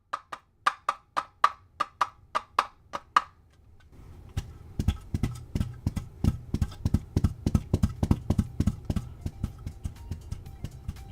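Foley horse steps made with 3D-printed hooves on carpet: a brisk run of sharp, evenly spaced clip-clop taps, then a denser, heavier stretch of rapid galloping thuds with a low rumble underneath, close and fairly loud.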